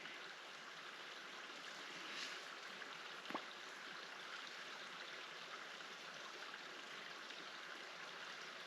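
A creek flows beside a campsite in Tonto National Forest near Roosevelt Lake, a steady, soft broadband wash of moving water that holds even throughout, with one brief faint tap partway through and no voices.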